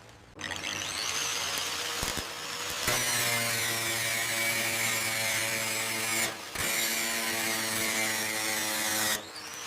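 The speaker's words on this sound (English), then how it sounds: "New panel aligned, start riveting." Pneumatic riveting on a new panel fitted to an abandoned private jet in the jungle: a loud, continuous mechanical drone with steady tonal whine, broken by a few brief pauses, close by and with no talk.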